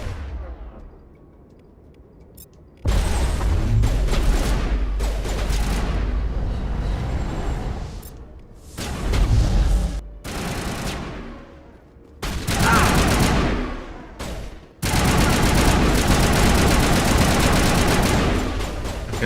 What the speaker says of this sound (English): Krogan's taking a lot of bullets.